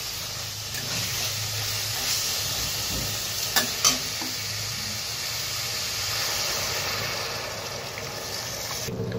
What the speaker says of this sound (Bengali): তো মশলাটা কষে গেছে, তো পরিমাণ মতো জল দিয়ে দিই।